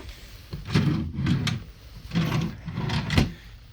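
Drawers in a Majestic Princess interior cabin sliding open and shut close by, four distinct rumbling slides in quick succession with soft thuds at the ends.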